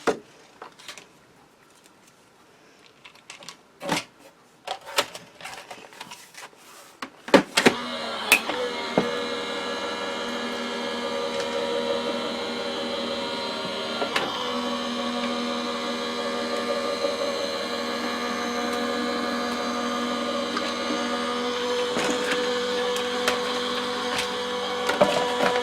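Die-cutting machine running card through to cut a memory book cover: scattered clicks and handling knocks, then a steady mechanical whir with a constant tonal hum that continues to the end.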